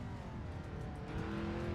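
Porsche Panamera engine in a racing video game, a steady, fairly quiet revving drone with rising harmonic tones, heard alone.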